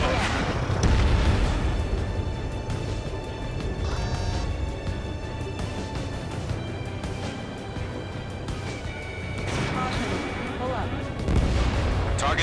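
Missiles launch and explode in the jet combat game Ace Combat 7: a loud, sustained roar of rumbling booms and blasts that swells near the start and again toward the end, with radio voices mixed in.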